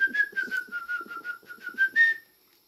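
Someone whistles a steady tune outdoors near a forest lake: a sustained, slightly wavering note pulsing in a quick rhythm of short phrases for about two seconds, loud and close, then stopping.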